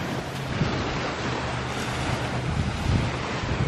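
Ocean waves rolling onto a beach, a continuous close roar of surf mixed with gusty wind noise, steady throughout.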